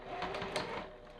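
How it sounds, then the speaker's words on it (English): A sewing machine back stitching a rag quilt seam gives a brief, quiet whirring run lasting about a second, close by. "I'm back stitching again"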